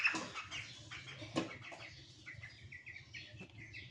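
Broiler chickens and a rooster cluck and chirp softly in a farm house while being weighed, with scattered calls over a low steady background hum.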